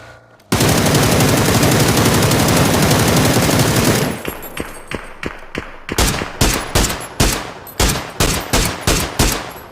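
Gunfire in the PUBG Battlegrounds video game: a long continuous burst of automatic fire, then a run of separate loud single shots at a steady rhythm, close and dominant with no talking.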